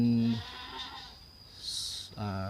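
Dairy goats bleat in a pen on a farm, with a loud call at the start and another at the end. Someone talks between the calls.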